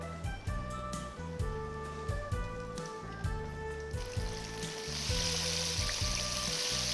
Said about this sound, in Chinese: 这样我们可以直接下锅炸。